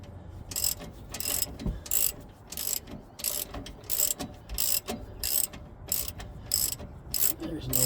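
Ratchet wrench clicking steadily as a bolt is turned during a Ford 9 inch axle swap into a Jeep YJ Wrangler, with rapid repeated bursts of clicks in an even rhythm, close and fairly loud in a quiet garage.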